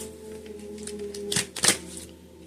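A deck of playing cards is shuffled, two quick riffling bursts close by against a faint steady hum, with no talking.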